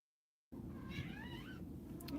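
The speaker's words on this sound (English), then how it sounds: "Here comes the kitty cat." A house cat meows in a drawn-out, wavering call, close and fairly quiet against a steady low room hum, with a brief higher squeak near the end.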